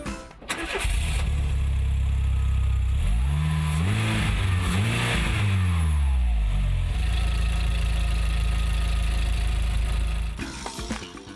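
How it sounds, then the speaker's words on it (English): A 2007 Brazilian VW Kombi bus with a 1.4-litre water-cooled straight-four engine starts up, revs a few times, then settles into a loud, steady running drone before tailing off. "This 2007 model is fitted with a water-cooled straight-4 engine."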